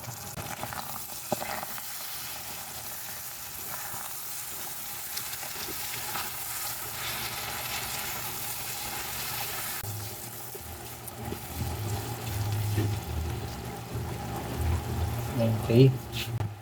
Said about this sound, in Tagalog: saka natin ilalagay ang chopped onions. Haluin natin.